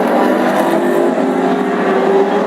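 Classic hot rod race cars, among them a Chevette, race hard around the Ipswich oval, their engines roaring in a dense, unbroken, loud drone with no pauses.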